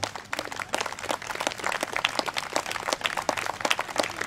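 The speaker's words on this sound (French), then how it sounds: "je vous demande de l'applaudir pour son courage" An audience at a 2015 commemoration of the abolition of slavery applauds with steady, dense clapping from many hands, heard at a moderate distance without speech over it.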